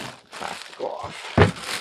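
Plastic wrapping being pulled off an AtGames Legends Gamer Pro arcade console. Soft crinkling and rustling comes in brief bursts, ending in one louder crackling rip, all close by.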